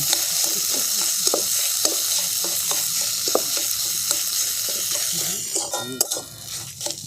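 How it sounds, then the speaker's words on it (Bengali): Potato filling for kachori, mashed with spices, chaat masala and jaggery, is worked together with a spoon in a pan, giving a steady run of close, rhythmic scraping and soft tapping strokes that loosen and thin out near the end. "সমস্ত কিছু আমি একসঙ্গে খুব ভালো করে আলুটার সাথে মিশিয়ে নিচ্ছি"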